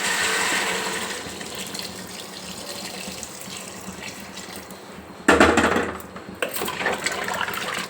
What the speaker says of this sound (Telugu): ఇప్పుడు మనం కాగబెట్టుకున్న నీళ్ళు వేసుకుంటున్నాం